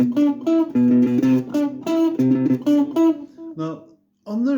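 A guitar plays a staccato, funky chord riff in a simplified arrangement. Short, clipped stabs fall in a tight rhythm, with a brief silence before the phrase restarts.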